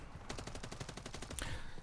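Rapid automatic fire from an MCW rifle in Modern Warfare 3, a steady stream of sharp shots at a fast even rhythm for most of two seconds, loud and close.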